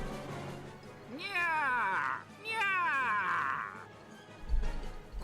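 A voiced character in the video game Corona Blossom gives two long, wavering meows in a human voice imitating a cat, each over a second long, clear and close over faint background music.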